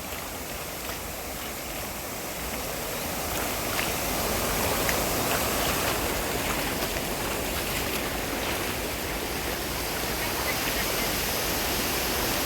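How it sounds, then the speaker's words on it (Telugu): A flooded village stream rushes past in a continuous, loud, hissing roar of fast water that swells slightly partway through and holds steady, with faint voices at times. "ఎట్లుంది చూడండి మన ఊరి వాగు"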